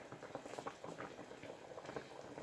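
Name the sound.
fish soup with fried tilapia boiling in a pot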